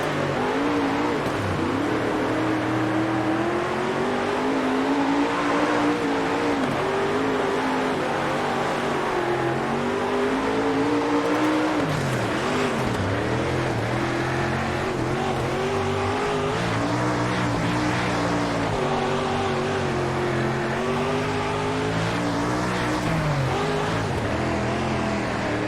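Dirt track race car engines in the World of Outlaws: Dirt Racing video game roar continuously, the revs climbing and dropping as the cars accelerate and ease off, loud and steady throughout.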